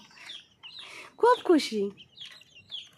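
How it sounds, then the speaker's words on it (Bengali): Young chicks let out into the yard cheep in scattered, high, thin peeps at low level, while a person talks briefly over them. "এই যে খুব খুশি মুরগির বাচ্চাগুলো"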